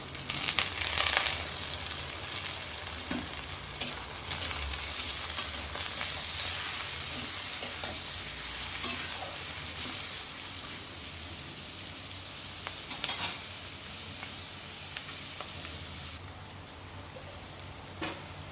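Onion and potato fry together in a pan for a Bengali bottle gourd dish, giving a steady, moderately loud sizzling hiss with scattered pops and crackles throughout.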